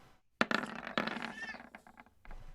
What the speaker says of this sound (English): No, I hear kitty cat.